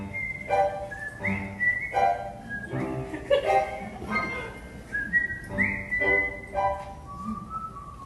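Someone whistles a little song alone, a lilting melody of short phrases with brief pauses, fairly close and clear.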